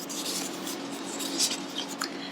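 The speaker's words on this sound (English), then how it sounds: "we gotta make sure we shuffle them all up" Paper word cards are shuffled and rubbed together close up, a soft continuous scraping and rustling with a few brighter flicks.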